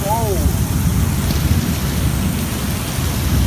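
Heavy rain pours steadily in a cold, stormy area during a power and internet outage, a dense, continuous roar close by, with a brief voice fragment at the start.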